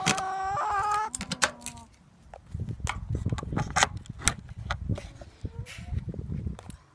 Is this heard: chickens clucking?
yes